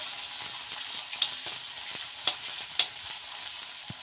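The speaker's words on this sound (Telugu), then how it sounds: "వేసి మంచిగా ఈ ఆనియన్ అనేది బాగా ఫ్రై అవ్వాలి" Onion and green chillies fry with curry leaves in hot oil for a brinjal tempering, giving a soft continuous sizzle with three or four sharp stirring ticks close by, and no voices.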